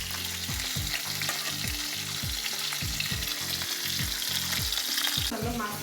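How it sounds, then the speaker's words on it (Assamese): Fish pieces frying in hot oil in a pan for an Assamese fish curry, a continuous crackling sizzle with rhythmic scraping strokes of a spatula stirring throughout. "মাছখিনি ভাজি ল'ম"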